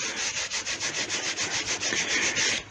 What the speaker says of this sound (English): I will share it around between frets before I start rubbing it in